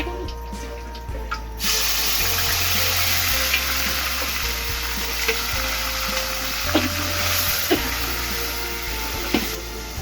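Pakora frying in a pan while ginger, garlic and onion paste and spices are being prepared: a steady, close sizzling hiss with a low hum beneath and a few scattered clicks and pops, and no talking.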